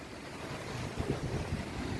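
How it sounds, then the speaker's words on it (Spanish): Surf at Playa Miramar in Tampico, Mexico, a steady broadband wash of waves on the beach with wind rumble across the microphone, continuous and fairly loud with no voices. "El mar."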